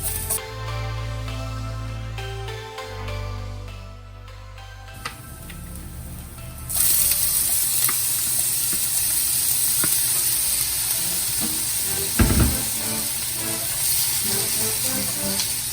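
Garlic and shrimp sizzle and hiss steadily in a hot pan, a dense frying crackle with occasional sharper pops and clatter, with no talking.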